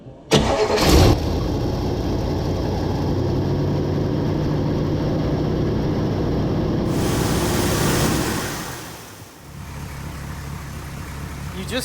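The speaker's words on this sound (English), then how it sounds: "I'm fixing to give this thing the start for the first time" A car engine fitted with a rebuilt Carter AFB carburetor cranks and fires up loudly at close range, then settles into a steady, rough high idle that sinks toward a lower, quieter idle near the end.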